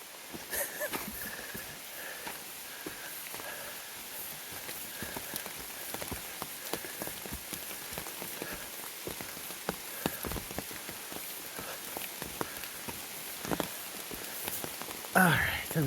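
Steady rain falls on an Appalachian Trail forest, pattering on moss, rocks and gear in a dense continuous hiss with scattered closer drops, and someone speaks briefly near the end.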